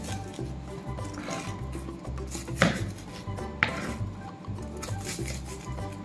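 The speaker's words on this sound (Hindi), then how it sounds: "अब हम इनको बीच में से काट लेंगे।" Steady, soft knife cutting through dahi ke chole on a board, with a low continuous background hum and two sharper knocks of the blade, close and without speech.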